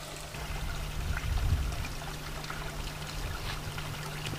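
Water from a pump outlet splashes and trickles steadily into a koi pond, a continuous broad wash of pouring and aeration with a faint low hum underneath.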